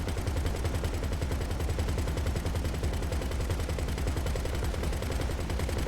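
Rapid, sustained gunfire rakes the Titan cargo plane in GTA Online, a dense, unbroken rattle of repeated shots holding steady and loud with no pause.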